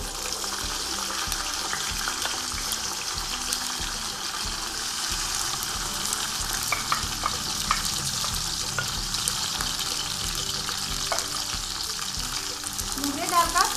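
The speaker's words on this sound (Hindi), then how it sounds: "ऑयल के गर्म होते ही हम इसमें सबसे पहले मूंगरे डाल देंगे।" Moongre fry in hot oil for an aloo matar vegetable dish, making a steady close sizzle with occasional stirring scrapes throughout, under faint background noise.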